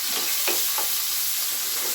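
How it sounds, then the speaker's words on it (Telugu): Cumin seeds, curry leaves, green chillies and onion pieces crackle and sizzle in hot oil, a dense, close frying hiss with a couple of quick stirring scrapes, no voices. "ఆయిల్ వేడెక్కిందండి, కొంచెం జీలకర్ర వేసుకుందాం, కొద్దిగా కరివేపాకు, పచ్చిమిర్చి, ఉల్లిపాయ ముక్కలు వేసుకుందాం"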